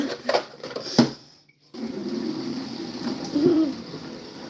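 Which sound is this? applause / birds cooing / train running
birds cooing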